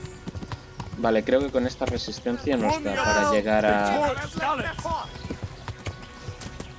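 Horse hooves clip-clopping in the medieval game Kingdom Come: Deliverance, a steady rhythmic trot running beneath someone talking in Spanish throughout.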